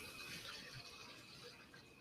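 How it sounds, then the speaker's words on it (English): A toilet flushing in the room above, heard through the ceiling as a steady, muffled rush of water that continues at an even level for the whole stretch, with no voices. "The toilet above me is flushing. You can probably hear that."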